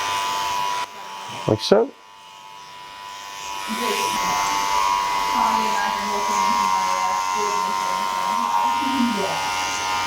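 Electric hair clippers buzz steadily while cutting a short haircut, a close, continuous hum that starts after a brief handling noise and a few words from a person, then runs on alone to the end.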